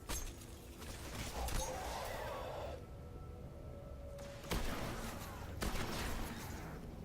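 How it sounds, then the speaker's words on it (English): Shotgun blasts in the video game Destiny, a few sharp bursts breaking through a dense, continuous wash of game noise and ambience. "There you go, show off the shotgun."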